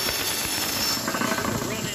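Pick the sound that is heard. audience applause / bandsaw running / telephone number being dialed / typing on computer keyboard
bandsaw running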